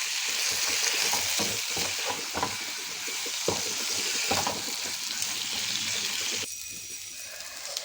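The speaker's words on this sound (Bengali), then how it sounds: "সর্ষেটাকে একটু ভাজা ভাজা করে নিব।" Mustard paste frying with pointed gourd in a pan, a constant close sizzle with repeated scraping stirs and light clinks, quieting toward the end.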